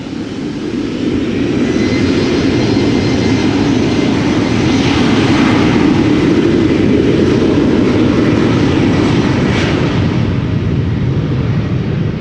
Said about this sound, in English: Triple's lining up, but the Embraer 190 will be going first